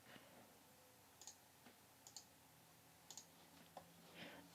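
Scattered, faint clicks of typing on a computer keyboard come in sparse taps and short pairs across a quiet background, with no talk.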